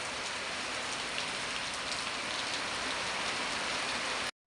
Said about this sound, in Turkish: Hmm, bir bakın ne kadar yağıyor. Birden yağmur geldi.